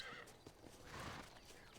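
A horse in the Western video game Red Dead Redemption whinnies with a rising, drawn-out neigh, clear and moderately close, heard alone without any talk over it.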